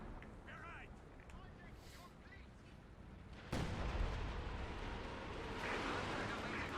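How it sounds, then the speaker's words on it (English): Nebelwerfer rocket artillery fires in the Company of Heroes 2 battle game, giving a sudden loud whooshing blast partway through. A sustained rushing roar follows over quieter battlefield ambience. "Werfer firing."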